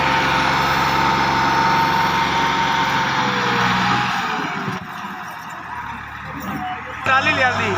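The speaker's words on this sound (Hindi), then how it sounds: "कल्ले ट्रैक्टर की परफॉर्मेंस चेक करो। ट्राला 16 फुटा लोड।" A Millat tractor engine strains while pulling a loaded 16-foot trolley up a steep rise, a loud steady drone that drops away partway through, with someone talking over it.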